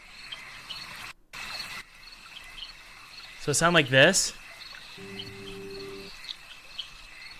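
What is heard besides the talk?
bog ambience with crickets in a video game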